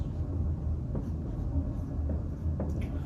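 Chalk or marker scratches and taps on a board during a physics lecture, a few brief sharp strokes over a low room rumble, moderately close with no talk.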